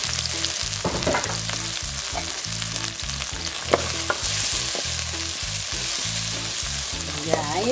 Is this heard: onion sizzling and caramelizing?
yes